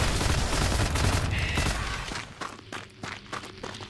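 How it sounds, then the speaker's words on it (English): Rapid gunfire in the video game WRATH: Aeon of Ruin, a dense, loud barrage of shots that thins into scattered blasts and thuds as footsteps move, with no voices. "I think right, left click and right click do the same thing on this gun."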